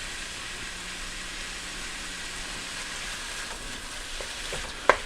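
Ground beef for tacos fries in a pan, making a continuous, even sizzle that stays close and fairly loud, with a single sharp clink near the end and no talking.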